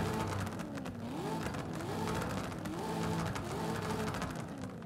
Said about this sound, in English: You've got turbo noise, but you lose that really cool supercharger whine we had before.